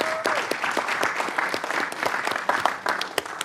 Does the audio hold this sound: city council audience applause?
yes